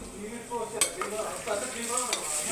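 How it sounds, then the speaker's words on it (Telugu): Food frying in a pan is stirred until brown, soft scraping strokes over a steady low sizzle, with a couple of light spoon taps against the pan. "బ్రౌన్ కలర్ వచ్చేదాకా కలుపుతారా?"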